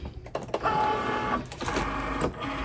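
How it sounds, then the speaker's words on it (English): Cricut cutting machine loading a sheet of heat transfer vinyl for T-shirts: a short, quiet mechanical whir and hum with a few clicks, heard close by with no talk. "So we're just going to load this into our Cricut."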